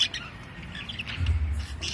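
Budgerigar chicks in a nest with their mother, cheeping in rapid high chirps and squawks, close and fairly loud throughout.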